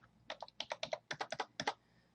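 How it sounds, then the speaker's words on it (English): Quick typing on a computer keyboard, about a dozen crisp close keystrokes in two short bursts, clear and alone without talk. "so let's type that in."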